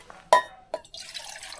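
Water tipped from a cup into an aluminium pot on a folding gas camping stove, giving a sharp splash, a second smaller splash, then a steady trickle of pouring liquid, close and fairly quiet.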